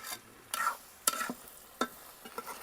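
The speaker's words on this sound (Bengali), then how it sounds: "মশলাগুলোর সাথেও একটু ভালোভাবে মিশিয়ে নিলাম জালি কুমড়োটা" Pieces of ash gourd get stirred with spices in a pan, producing a few separate scraping strokes and light sizzling bursts close up, with quiet gaps between them and no voices.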